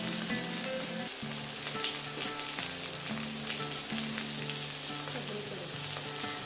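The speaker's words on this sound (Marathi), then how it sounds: "सगळ्या बाजूने परतत पण या व्यवस्थित भाजून घेऊ." Stuffed capsicum peppers (bharli shimla mirchi) fry in a pan with a constant, full crackling sizzle that runs throughout beneath a soft musical backdrop.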